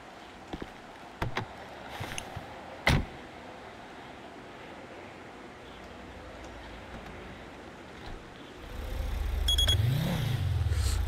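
A car engine from GTA 5 rises and revs near the end as the vehicle is driven through the city, after a stretch of faint ambient game noise with a few sharp clicks early on.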